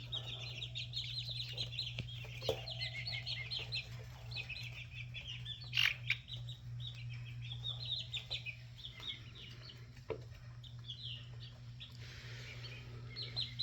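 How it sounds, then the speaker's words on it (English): Young jungle chickens, a few weeks old, keep up busy high clucking and peeping in overlapping bursts, moderately close, over a constant low mechanical hum with occasional knocks. "These black chickens are here."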